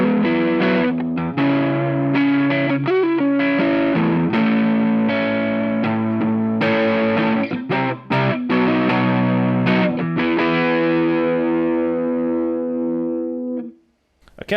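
Electric guitar through a Suhr Shiba Drive overdrive pedal with its smooth control centered, playing a sustained, driven riff with chords and single notes, loud and close, ringing out before stopping.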